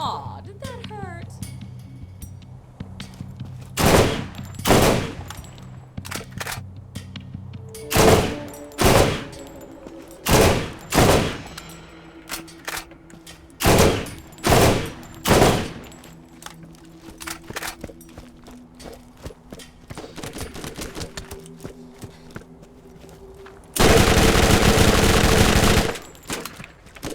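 Stompers combat rifle in Borderlands fires single sharp shots in uneven clusters, fairly loud and close, ending in a long sustained burst, with footsteps and game sounds between the shots.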